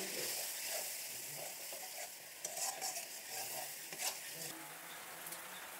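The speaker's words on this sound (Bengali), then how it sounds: "তো ভালো করে মিলিয়ে নিয়ে আর একটু কষিয়ে নিয়ে" Taro flower curry with yogurt is stirred in a hot pan, giving a faint steady sizzle broken by scraping strokes and brief clattering bursts near the middle, with nobody speaking.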